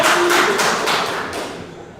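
Crowd applause in a sports pub, a loud, dense wash of clapping and cheering from a packed room that swells briefly and then gradually tapers off.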